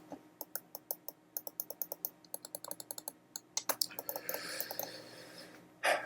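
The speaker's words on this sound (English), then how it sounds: "Can adjust the DPI settings by clicking here." Sharp, crisp clicks tap out in a quick irregular series from a button on a Redragon Perdition gaming mouse, close and fairly quiet, followed by a brief louder rustling handling noise near the end.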